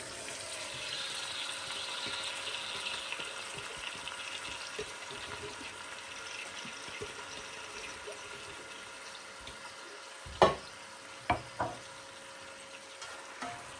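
Beef skin sautéing in a pan with onions, a steady close sizzle and hiss running throughout, with a few sharp clinks of a utensil near the end.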